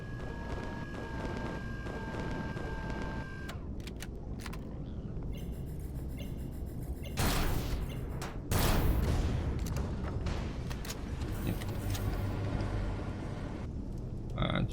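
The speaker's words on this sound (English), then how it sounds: "Who the heck's firing at me now?" Sci-fi weapons fire in Empyrion Galactic Survival Alpha 11.5: harsh blasts and rumbling bursts strike amid a steady background hum, with two louder impacts standing out midway, and no talk.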